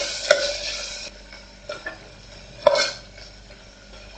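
A spoon scrapes and stirs Maggi masala into green onion curry in a pan, with a soft sizzle underneath and a few sharp clinks against the pan, close and without talk.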